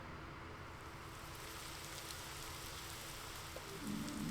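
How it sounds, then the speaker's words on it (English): Steady rain falls in a video game scene, a soft continuous hiss of drops on surfaces that stays even throughout and swells slightly louder near the end. "And here comes the rain."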